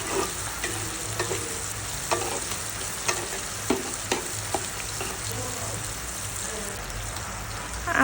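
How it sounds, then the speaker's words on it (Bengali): Onions frying in a pan while being stirred, a dense crackling sizzle with sharp spatula scrapes and clicks at irregular intervals, close and steady, with no voice over it. "আগে পেঁয়াজটাকে একটু ভেজে নিতে হবে"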